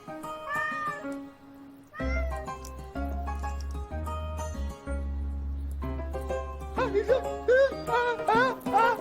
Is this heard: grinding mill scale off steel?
no